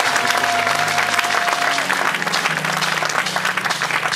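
An audience in a church applauds steadily and loudly, a dense wash of clapping from a crowd with a sustained tone running underneath.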